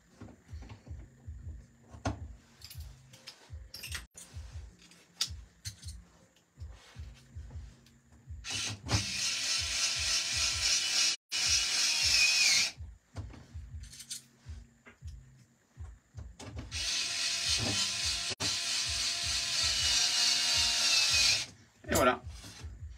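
Assembling the center and rear section of a Genius GTC8E 2023 model car chassis by hand with a 1.5 screwdriver, with small clicks and taps and two long stretches of bright hissing and whirring, under intermittent talk.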